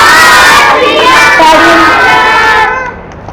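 A group of children shouts a Sikh jaikara chant in unison, a loud, sustained chorus of raised voices that swells and then cuts off abruptly near the end.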